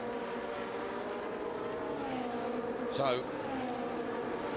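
Race cars at Mugello during a Trofeo Pirelli race whine past at a distance, a faint engine tone with one sharper passing car, under a commentator's talk.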